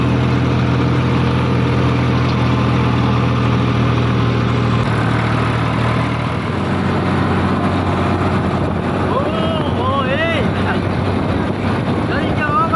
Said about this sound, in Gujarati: હવે આમાં તમને ટ્રેક્ટરનો અવાજ વધારે આવતો હોય છે